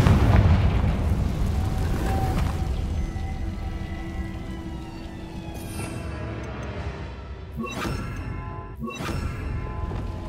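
A Confringo blasting spell explodes in the Hogwarts Legacy video game, heard as a couple of sharp booming bursts near the end over a steady, busy game background.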